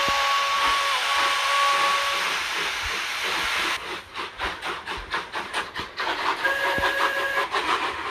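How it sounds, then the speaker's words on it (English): A big red steam engine lets out a loud, sustained steam whistle over a steady hiss, then heavy rhythmic chuffing as it storms away, with a second whistle blast near the end. "With that, the big red engine stormed out."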